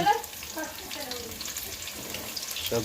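Chop frying in mustard oil, a soft continuous sizzle and crackle under a voice talking quietly throughout.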